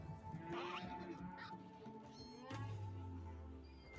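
A cat meows a few times in a home that sits in a game world with farm animals around, the calls rising over a steady background hum and low sounds.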